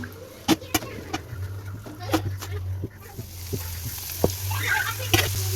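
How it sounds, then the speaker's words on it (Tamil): Maida vada deep-frying in oil on a medium flame: steady bubbling sizzle with a low hum beneath, punctuated by several sharp clicks and taps from handling in the pan. "நல்லா மீடியம் ஃப்ளேம்லேயே வச்சு நல்லா முறுமுறுப்பாக பொறிச்சு எடுத்துக்கலாம்"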